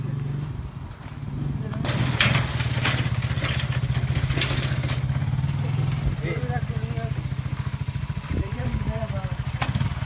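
A small motorcycle carrying youngsters through a village putters and idles steadily with a rattling exhaust, close by, while someone talks over it.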